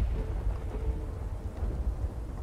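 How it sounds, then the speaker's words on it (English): Rain in the video game Fractured Minds, a dense, low rumbling downpour with a thundery roll, heard alone at a moderate, steady level. "I like the rain. It distracts"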